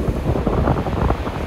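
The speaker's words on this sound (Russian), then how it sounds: "А сегодня море штормит." Stormy Black Sea surf churns against the Sochi shore on a windy, drizzly January day, a steady close roar of breaking waves and wind buffeting the microphone, with no voices.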